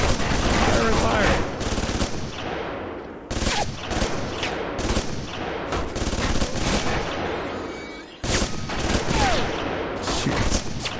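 Turret gunfire in Alpha Protocol: long, loud bursts of rapid automatic fire with brief gaps between volleys, dense and close, with a voice speaking faintly beneath.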